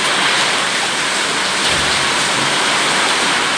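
Heavy rain pours down during a strong storm in a town in northeastern Brazil, a loud, dense, unbroken hiss of water that holds steady throughout with no talk.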